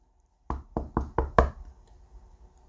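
Five quick, sharp knocks rap on a door in a tight, slightly uneven cluster, close and distinct against an otherwise quiet room.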